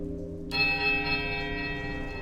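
A smaller temple bell in the video game Pillars of Eternity is struck once. It gives a sharp strike and then a long, bright, ringing tone that sustains steadily over a low resonant hum.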